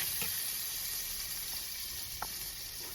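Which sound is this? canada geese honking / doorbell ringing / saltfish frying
saltfish frying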